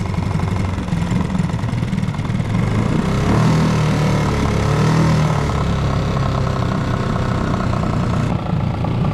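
A steady, low outboard motor drone runs throughout with a slight irregular chug, idling close by on a small skiff, with no voices.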